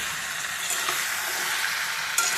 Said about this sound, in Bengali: মাংস আমার কষানো হয়ে যাচ্ছে প্রায়। এরকম তেল কত ছেড়ে দিচ্ছে